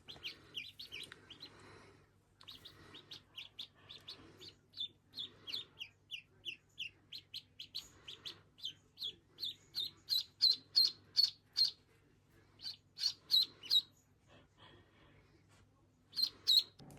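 Three newly hatched ducklings chirp under a brooder plate, a run of high, clear peeps that grows louder and quicker toward the middle and then comes in brief bursts, close by over a faint low background hum.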